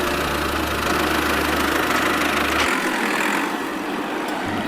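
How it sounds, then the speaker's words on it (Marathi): A self-help group's mini tractor idles nearby with a steady low mechanical hum under broadband noise. The deep engine drone cuts off about halfway through, leaving a lighter hiss. "ट्रॅक्टर कोणाचा आहे?"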